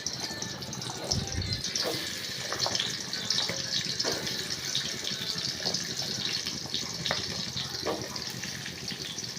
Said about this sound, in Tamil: எண்ணெய் காஞ்சிருச்சு வெங்காயம் போட்டுக்கலாம்